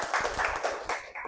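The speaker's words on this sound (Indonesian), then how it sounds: "Tepuk tangan." A group of pupils claps hands in a classroom, a brief burst of quick overlapping claps that sounds close and lively.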